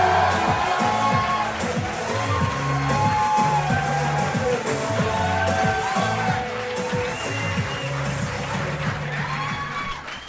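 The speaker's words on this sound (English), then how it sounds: "It's a warm reception. It's a very nice crowd." A studio audience at a live comedy show welcomes comedian Tom Segura with sustained loud cheering, whooping and clapping, a dense crowd roar that holds steady and fades slightly toward the end.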